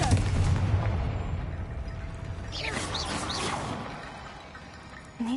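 An explosive spell goes off in Hogwarts Legacy with a booming, blast-like burst, then crackling debris and a rumble that slowly trails away, with another sharp hit at the very end.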